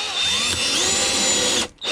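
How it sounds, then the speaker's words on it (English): Steady, loud whine of a power drill driving a screw to install a replacement lift shock on a popup camper, running almost continuously and then cutting off briefly near the end. "So put this one in position and drill it in."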